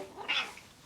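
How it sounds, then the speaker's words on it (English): A pet cat gives a single short meow, faint and slightly distant, in an indoor room with no talking. "if you hear some meowing,"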